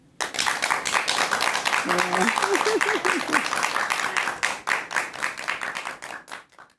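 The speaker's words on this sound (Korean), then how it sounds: "여러분 큰 박수 부탁드립니다." A lecture audience breaks into loud, dense applause that swells quickly, holds steady for several seconds and then thins out toward the end, with a brief voice audible in the middle.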